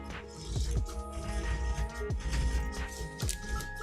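Sovol SV06 3D printer running Klipper firmware on an unbolted desk: steady motor whir with rising and falling tonal sweeps as the head moves, plus a low rumble and rattle from the shaking desk, moderately quiet and continuous.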